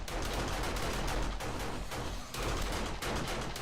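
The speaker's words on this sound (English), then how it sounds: "I am very sad that those guns went off." Rapid, continuous gunfire from guns in the video game 7 Days to Die crackles in dense repeated bursts, loud and unbroken throughout.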